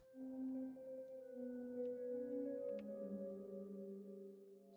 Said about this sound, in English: I found this cool Omnisphere pad, which I like. Sounds like this.